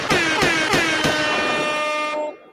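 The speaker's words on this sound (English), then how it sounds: "You got some air horns over there." A loud air horn fired from a sound effect board, several sharp repeated blasts running together into one long blaring tone that cuts off abruptly.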